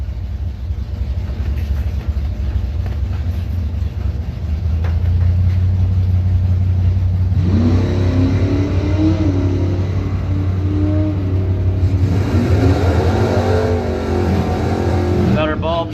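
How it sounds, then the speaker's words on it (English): Cars race down a drag strip at a Bowtie Challenge event, including an '84 Monte Carlo SS. Loud engines roar and rise in pitch as they accelerate, over a steady rumble, while an announcer talks throughout. "Allison Fluette, 84 Monte Carlo SS for Lane Plumbing and Heating."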